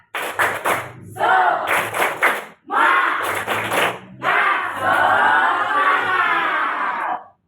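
Children perform a rhythmic spirit clap with cheering, loud and close, in repeated bursts of claps and shouts with short pauses between, and a voice briefly among them.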